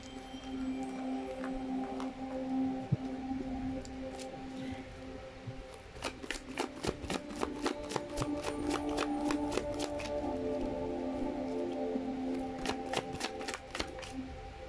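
Tarot cards are shuffled and riffled close up, making crisp bursts of rapid flicks and snaps over a steady background hum, with quick clustered runs of card clicks toward the end.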